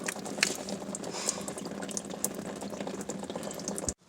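Coolant drains steadily from a Volkswagen Eurovan engine during a water pump replacement, a continuous close splashing, gurgling flow of liquid that runs for about four seconds before cutting off abruptly.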